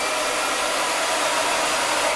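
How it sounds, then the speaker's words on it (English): A hair dryer blows steadily to dry painted home decor, a loud, unbroken whoosh that stays constant from start to finish with no talking. "we are going to turn on the blow dryer or hair dryer and dry it again."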